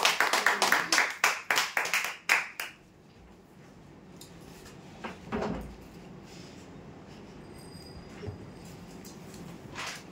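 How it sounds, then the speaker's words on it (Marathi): A handful of sharp, scattered hand claps ring out for a lucky-draw winner at a weekly prize draw, fading within a few seconds into a quiet room with faint knocks. "जोरदार टाळ्या होऊ द्यासाठी"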